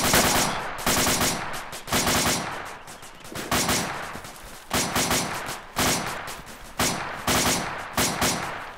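Sustained machine gun fire from the video game Arma 2 sounds in long bursts of rapid, loud shots, about eight bursts separated by short pauses, close and dense with no talking.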